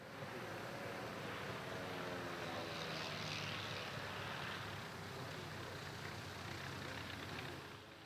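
A de Havilland DHC-1 Chipmunk, a propeller trainer aircraft, drones steadily with a loud, continuous engine roar and broad airy wash that holds for several seconds before easing slightly at the end.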